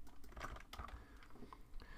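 Quick, irregular clatter of typing on a computer keyboard while working in a word processor, fairly close and steady for the whole stretch, with no voice over it.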